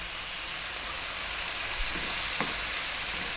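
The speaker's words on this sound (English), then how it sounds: "Again, staying on this highish heat and stirring fairly often." Spicy chicken fried rice seasoned with paprika, chili, oregano and cumin sizzles steadily in a pan over high heat, a constant frying hiss with a few soft stirring scrapes and no talk.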